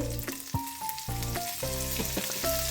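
Asafoetida, ginger and green chili fry in hot refined oil with a continuous sizzle, heard beneath a steady tonal background that shifts in pitch.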